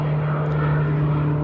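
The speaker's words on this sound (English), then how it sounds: "These crop dusters are going at it." A crop duster propeller plane drones steadily overhead, a loud continuous engine hum with a low, even tone and no voices.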